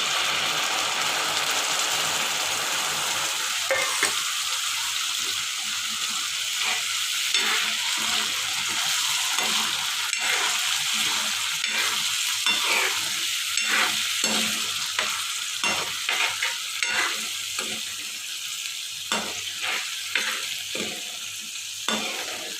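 Ground tomato puree sizzles and fries in a pan for street-style tava pav bhaji, a steady loud hiss broken by repeated scraping and stirring strokes throughout, with no voices.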